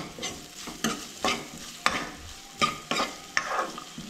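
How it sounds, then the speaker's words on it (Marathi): Onion and spices stir-fried in a pan for a Goan cowpea and drumstick bhaji, with a soft sizzle under rhythmic spatula scrapes and stirs about every half second, close up and without talk. "सो हे सगळें ॲड केल्या उपरांत न्हय बरें तळसळून घेवंक जाय."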